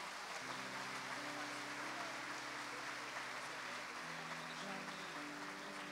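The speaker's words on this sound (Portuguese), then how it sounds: "Dá uma salva de palmas a Ele." A church congregation gives a round of applause, a steady wash of clapping heard at a moderate distance, with a low sustained keyboard tone underneath.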